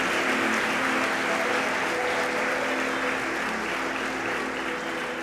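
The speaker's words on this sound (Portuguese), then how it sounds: "Você pode aplaudir o Senhor" A church congregation claps together during an evening worship service, a steady wash of dense applause that holds loud and even from start to finish with no voices over it.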